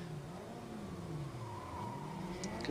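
Formula Vee race cars battling for the lead at Silverstone International, engines droning steadily at a distance with a continuous, even roar and no voices.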